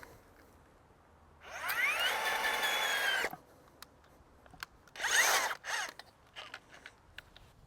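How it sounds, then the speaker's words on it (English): A power drill bores into garden soil to make a hole for planting anemone and allium bulbs, with two loud whirring bursts, one about two seconds long and a shorter second one, in a quiet outdoor setting. "First, we'll drill our hole."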